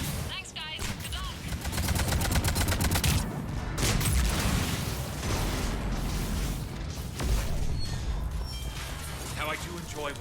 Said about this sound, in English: How I do enjoy watching mechs explode.